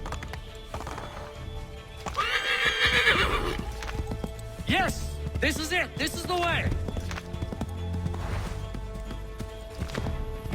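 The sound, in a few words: horse galloping in Assassin's Creed 3, a video game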